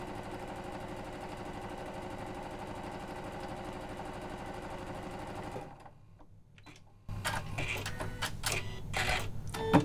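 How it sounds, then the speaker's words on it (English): A Janome sewing machine stitches a seam, a steady fast mechanical whir running close and moderately loud, then a short quiet pause before a second, noisier burst of stitching with clicks. "We're going to stitch our seam."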